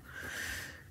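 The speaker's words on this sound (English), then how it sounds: "So if you hear some sniffling going on in the background" A single soft, breathy sniffle sounds close by, drawn in through the nose and lasting about a second, during a quiet crafting session.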